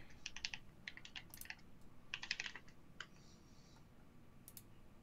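A mechanical keyboard clacks in short, quick bursts of typing with pauses between them, crisp and close against a quiet room.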